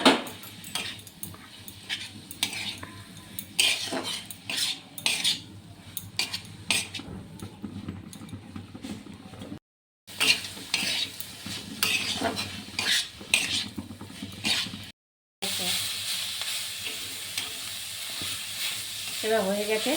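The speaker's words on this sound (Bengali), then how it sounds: "ভাজাটা অনেকটা হয়ে এসেছে, এই সময় রসুন পেঁয়াজ আর লঙ্কা ভেজে রেখেছিলাম" Jute leaves being stir-fried with garlic, onion and chili in a pan, with repeated scraping and clinking of a spatula against the metal over a soft sizzle, close and fairly quiet with brief pauses.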